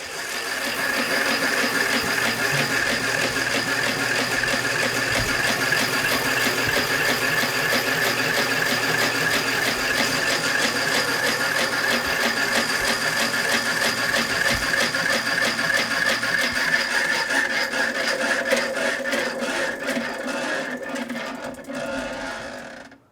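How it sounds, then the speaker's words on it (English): A twin spin prize wheel turns in an arcade, giving a steady mechanical ratcheting clatter that runs continuously for about twenty seconds before slowing into distinct clicks and stopping near the end. "Let's spin the wheel."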